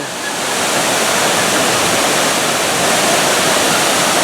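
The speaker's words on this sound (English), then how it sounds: "Thunder Canyon is their water rapids ride." Rushing water roars steadily at the Thunder Canyon water rapids ride at Valleyfair amusement park, a loud, dense, unbroken wash of white noise close by.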